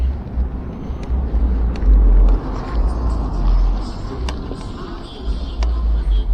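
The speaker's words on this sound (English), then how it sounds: "That was a little car with a whole lot of sound." A small car passes close by with a loud, rough roar that swells and fades over several seconds against windy outdoor noise.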